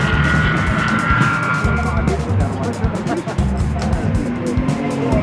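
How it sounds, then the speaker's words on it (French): Classic Mercedes 300 SL Gullwing driving on a morning rally stage at the Rallye de Paris Classic 2011, a steady loud engine drone with a roaring, passing character, with a narrator talking over it. "fait des heureux comme Daniel Muller au volant de sa 300 SL Goldwing"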